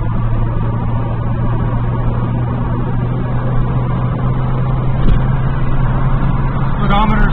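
A Datsun Z car cruising in fifth gear at around 3,000 RPM and roughly 60 to 70 mph, with a steady, loud engine drone and road roar that holds evenly throughout, plus a slight shake and a couple of brief clicks near the end.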